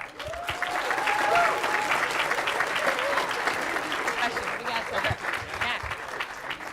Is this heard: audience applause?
yes